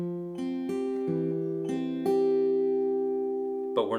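Close acoustic guitar fingerpicking repeats a pattern over the same strings, six or so plucked notes ringing and overlapping, with a brief scrape or vocal sound at the very end.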